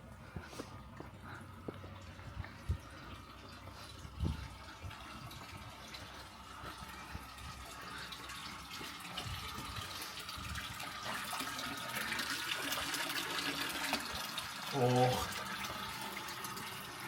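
Water from an outdoor spring flows in a continuous soft trickle with a brief splash near the end, while people talk over it.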